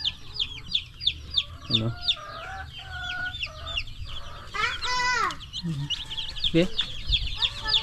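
Big chickens cluck and squawk in a makeshift pen, with a rooster's crow and chatter from many birds close by, while a person speaks briefly among them.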